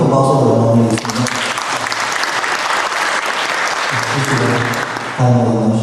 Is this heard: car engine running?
no